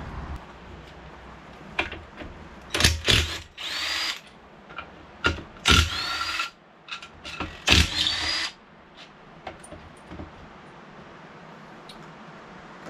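A power drill removes 10 mm bolts from the engine of a Cub Cadet zero-turn lawn mower, firing in several loud, short whirring bursts with quiet gaps between them.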